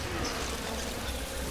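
Enemy bee people in the game Resident Evil 6 give off a dense, continuous insect buzz, loud and steady with no voices over it.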